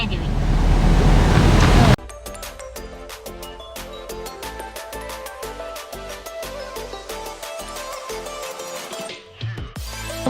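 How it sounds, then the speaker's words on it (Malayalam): A small waterfall beside a roadside tea stall on the Munnar hills route gives a steady, rushing wash of water for about two seconds, then gives way abruptly to music. "ചെറിയൊരു വെള്ളച്ചാട്ടമായിരുന്നു ഇവരുടെ സൈഡിൽ"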